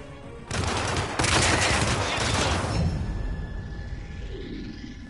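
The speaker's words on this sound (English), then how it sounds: "That was a gunshot." Loud bursts of gunfire erupt in the Hitman video game, a dense volley that begins suddenly, swells into sustained shooting, then trails off into a fading echo and quiet hum.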